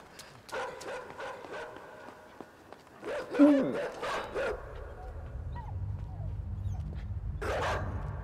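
A dog in the video game Inside barks and yips in short bursts, loud and close, over a low rumble of game ambience, with a fainter cry near the end.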